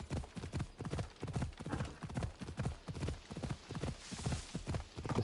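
Horse hooves clip-clop in a steady, close, loud rhythm while a rider travels through a town in Assassin's Creed Odyssey; no one speaks.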